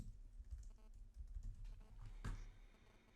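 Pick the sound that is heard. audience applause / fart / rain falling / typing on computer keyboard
typing on computer keyboard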